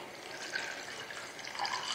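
A cup of water being poured for tamarind chutney in a home kitchen, a soft continuous splashing trickle that stays fairly quiet and steady throughout, with no talking.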